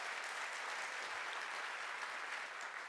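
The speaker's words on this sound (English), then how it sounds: "I thought we'd just give an applause" Audience applause at a business conference session on investment and corporate innovation, a steady, even wash of clapping from the crowd that holds at one level for about three seconds, heard somewhat distant and quiet.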